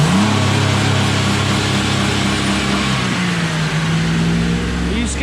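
A cold car engine, in need of new motor mounts, revving hard: a loud, steady mechanical drone whose pitch sags and climbs, with voices mixed in.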